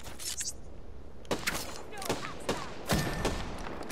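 Video game gunfire with a longbow-era feel: several sharp shots and thumps spaced irregularly across a few seconds, fairly quiet and mixed under ambient game noise.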